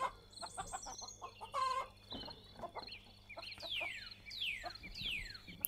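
Hens and a rooster cluck in a farmyard by a wheat field, with repeated short clucks and a few louder, sweeping calls near the end, all fairly close with no talk over them.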